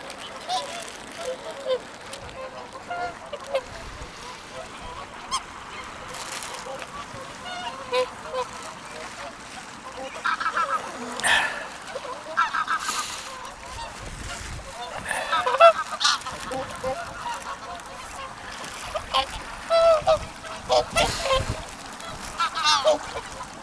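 Greylag geese and ducks honk and quack at a Reykjavik pond, scattered calls rising and falling over a steady outdoor hum, some near and some farther off.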